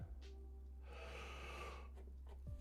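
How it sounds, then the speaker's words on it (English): A single drawn-out yawn from a man at his computer during a web development coding session, a breathy open-mouthed exhale that swells for about a second and a half and then trails off, close and quiet. "Bit of a yawn."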